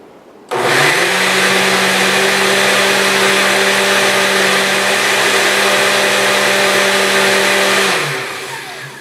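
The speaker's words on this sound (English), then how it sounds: "then you put your dry ingredients into your blender. You want to mix them up on just a puree or liquefy" A blender mixing crepe batter starts abruptly and whirs at a steady high pitch for several seconds, then winds down as it switches off.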